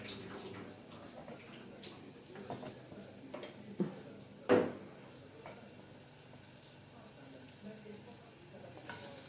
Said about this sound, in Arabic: اقلب البصله بتاعتي. البصله بتاعتي بتحمر